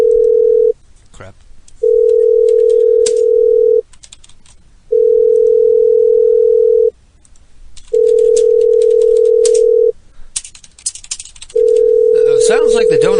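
Telephone ringback tone from an unanswered call, repeating steady beeps with short silent gaps. Clicks and muffled background noise fill the pauses, and a voice cuts in near the end.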